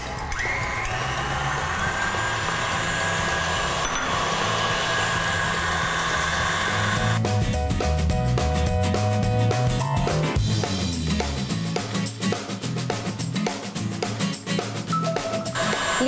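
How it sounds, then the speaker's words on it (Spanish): Electric stand mixer whipping cream at medium-high speed, a continuous whirring drone with a rattling, clattering texture that roughens partway through, steady and moderately loud throughout. "Vamos a ponerla toda en nuestra batidora y vamos a empezar a batir en velocidad medio alta"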